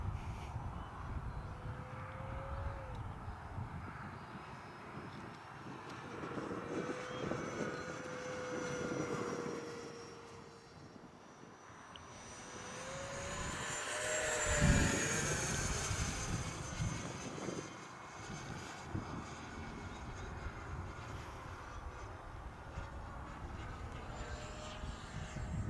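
An E-flite Viper 70mm EDF RC jet flies a loop, its ducted-fan whine swelling and fading as it passes near and then arcs away, with a louder sweep midway.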